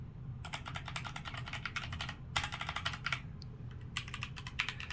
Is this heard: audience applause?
no